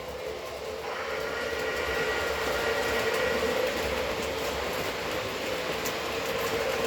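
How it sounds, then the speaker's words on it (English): A small electric train hums and rattles steadily along its track, a continuous whirring drone with faint clicking, close by and unbroken throughout. "As the train goes around the track, the area of red will change."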